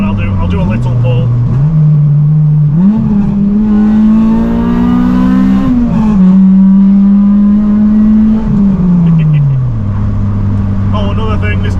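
A caged Honda Civic pulls hard from inside the cabin, its engine note climbing loudly through the revs, dropping at a gear change, then climbing again before easing off, with a faint voice under the roar.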